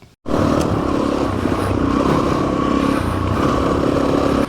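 A trail motorcycle rides a bush track near Lindsay Island, its engine a loud, steady drone heard close from the rider's position, with rattling and clatter from the rough ground throughout.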